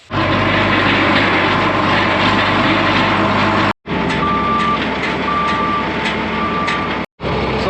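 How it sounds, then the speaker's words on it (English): A John Deere 4430 tractor used for raking and blowing bales runs steadily and loud throughout, with a deep engine drone, a repeating high reversing-style beep and two brief dropouts. "I've got the 4430, my raking tractor, blower tractor"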